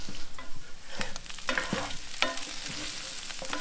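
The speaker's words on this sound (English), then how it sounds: "So our potatoes are just starting to fry off." Potatoes and black pudding frying in a pan over a fire, a steady sizzle broken by a few sharp clinks and scrapes of stirring, close and fairly loud, with no talk.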